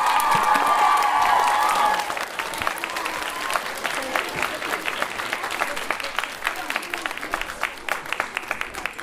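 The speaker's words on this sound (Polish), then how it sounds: "Wielkie brawa od nas!" Audience applause fills a school music concert hall, dense clapping with some cheering voices at first, then settling into steady, slightly thinner clapping that continues throughout.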